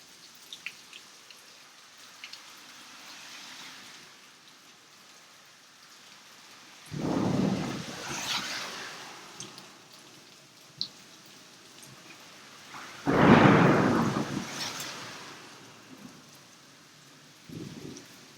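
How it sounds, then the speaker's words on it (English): Rain falls steadily during a severe thunderstorm in the American Northeast, broken by two loud thunder rolls that swell and fade, plus a softer rumble near the end. "And this thunderstorm is exceedingly bad."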